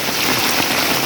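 Heavy rain pours down in a dense, steady roar with no pauses, close and constant, with no voices over it.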